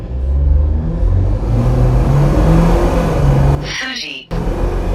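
A Jeep Wrangler fitted with a Pedal Commander set to its highest setting, traction control off, accelerates hard from a standstill; the loud engine drones and climbs through gear shifts, close and inside the cabin, with a brief break near the end.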